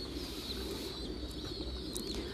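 Thai meat pigeons on a pigeon farm coo steadily under a constant background hum, the soft calls continuing throughout with no speech.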